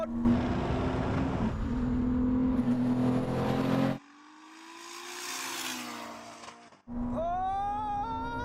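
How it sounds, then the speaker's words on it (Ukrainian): A 3000 hp SUV and a Ferrari SF90 race over a half-mile from a rolling 80 km/h start in third gear. Engines roar loudly and steadily, ease off into a whooshing lull as the cars move away, then return with rising, whining revs. "Тепер поїдемо з ходу зі швидкості 80 км на годину з третьої передачі"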